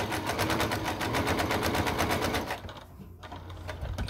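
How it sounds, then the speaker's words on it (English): A sewing machine backstitches a Christmas stocking in a fast, steady mechanical rattle that runs loud and close for a couple of seconds, then slows and fades. "Okay, I'm gonna stop backstitching."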